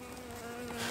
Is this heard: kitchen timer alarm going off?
no